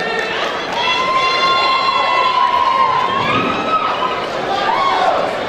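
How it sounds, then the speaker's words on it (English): A lively crowd cheers and shouts together, voices rising and overlapping in a loud, continuous roar. "Y'all keep clapping for him."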